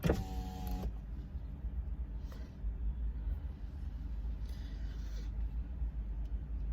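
Street traffic outside a restaurant forms a steady low rumble of passing vehicles, with a short whirring mechanical sound at the start and faint hissy swells later, moderately quiet and with no talking.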